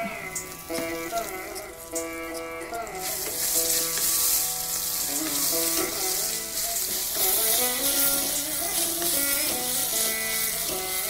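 Dried red chillies and curry leaves sizzle in hot oil after mustard seeds have popped, a bright crackling hiss that swells after a few seconds and continues steadily beneath a melodic background music track.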